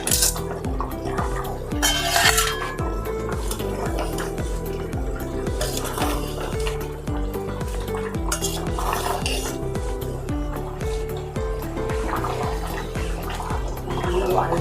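Cooked lima beans (val) are added to water in a pot, with clinking and stirring of a utensil and light liquid splashes over steady background music.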